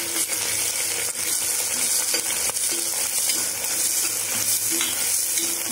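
Onions and green chillies sautéing in a pan for mutton kudal gravy give off a steady, close, bright sizzle throughout, with occasional soft scrapes and clinks of stirring and no talking.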